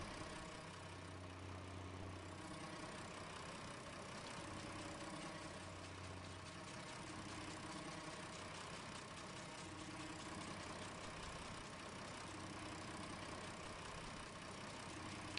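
A small tractor in Farming Simulator 19 drones steadily on a farm while mowing, a constant mid-pitched engine hum with a low steady tone and no break throughout.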